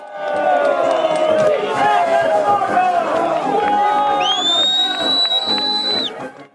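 A crowd of fans gathered below Maribor's Pohorje cheers loudly for Tina Maze during her Winter Olympic race, dense shouting and whooping with whistles and high rising cries near the end, continuous and close.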